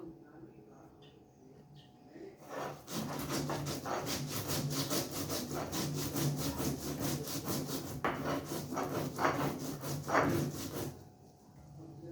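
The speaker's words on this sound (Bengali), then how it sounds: "এই জিরা কাঁচা লঙ্কা রসুন এটা বেটে নেব" Cumin, green chili and garlic ground by hand on a flat stone, a steady rhythmic scraping and rubbing that runs continuously for several seconds, close and moderately loud, with a few brief pauses between strokes.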